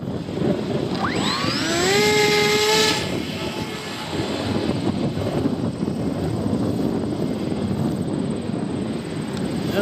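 An RC model airplane with a KK2.0 flight controller flies overhead, its motor whine sliding upward in pitch and then settling into a steady drone over rushing wind noise outdoors.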